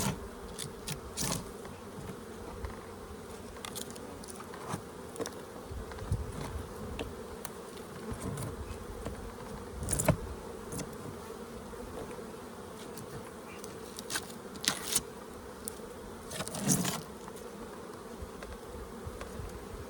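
Honeybees drone continuously inside an indoor paper-boosted hive, a dense steady buzz with occasional louder passes and knocks close by.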